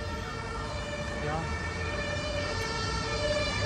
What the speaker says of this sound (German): Polizei, Krankenwagen.